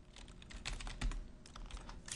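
Quick, light keystrokes on a computer keyboard, close and quiet, tapping in an irregular run with no voices.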